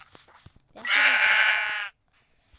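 A sheep or lamb in a video game gives a single loud, clear, wavering bleat lasting about a second, with quiet game noises before and after.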